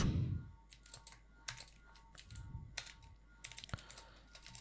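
A computer keyboard clatters with quick, irregular keystrokes in short bursts separated by pauses, close and fairly quiet.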